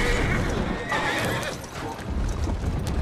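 A horse in the video game Assassin's Creed Syndicate whinnies loudly over hoofbeats and game sounds, with a voice speaking in between.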